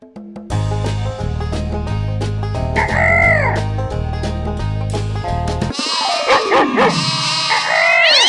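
A cartoon chicken clucks and crows over bright game music in a kids' farm-animal stacking game, with squawking calls in the latter half after the music drops out.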